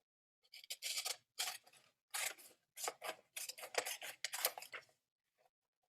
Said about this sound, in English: you're going to cut out all the squares. So just cut along the lines.